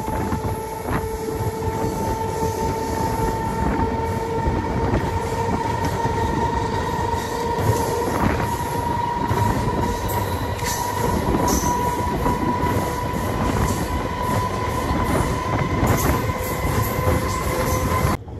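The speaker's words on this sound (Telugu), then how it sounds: "ట్రైన్ లోపల సౌండ్లు మట్టికి చాలా గట్టిగా వస్తున్నాయి, ఎందుకంటే మనం ఇంజిన్ వెనకాల ఉన్నాం కదండి" A Nidadavolu–Narasapur MEMU special express runs along the line, heard from a coach just behind the engine: a loud continuous rumble with steady wheel drone, rail clatter and a thin sustained squeal, no voices.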